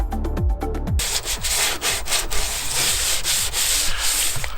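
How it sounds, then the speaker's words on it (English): Coarse 80 grit sandpaper rubbing rust off an Audi S3 body panel by hand in a driveway, a loud, close rasping scrape in quick back-and-forth strokes, steady and continuous with no talking. "I'm going in with an 80 grit sandpaper so we can remove as much rust as we can"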